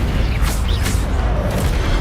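Incendio fire spell cast in the video game Hogwarts Legacy, a dense rumbling whoosh of flame with several short bright bursts and pops layered over a constant low boom across two seconds.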